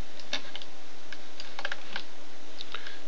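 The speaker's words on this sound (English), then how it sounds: "I use my W, my E, and my R keys on the keyboard" Computer keyboard keys pressed one at a time during 3D modelling work, sparse close clicks scattered irregularly over steady background hiss, with no talking.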